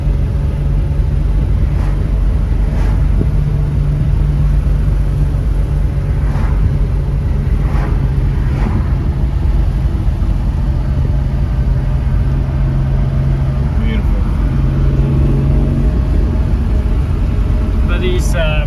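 A classic Lancia Flaminia engine drones and rumbles steadily while driving along forest roads, close and continuous, with people talking in the car over it.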